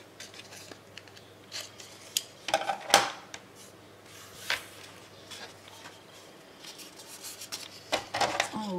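Leather is sliced with a blade to cut a bevel into folds for a steampunk leather album, giving quiet scraping and crisp cutting strokes with a few sharper clicks, close up over a low background hum.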